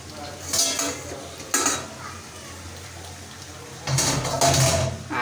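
Taro greens catching on the bottom of a cooking pot are stirred in a few loud scraping bursts of metal against the pot, separated by quieter stretches of low simmering.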